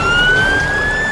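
An ambulance siren from a rescue team arriving alongside a crane truck wails loud and steady at close range, a single sustained tone that slowly rises in pitch.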